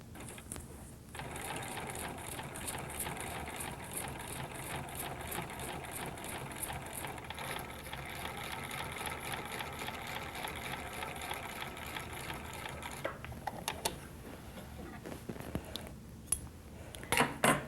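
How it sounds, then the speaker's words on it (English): A sewing machine stitches facings onto a sweatshirt, a continuous close mechanical whir with rapid needle clatter, slowing and stopping briefly near the end before a few final clicks. "I've just finished stitching the V in the facing"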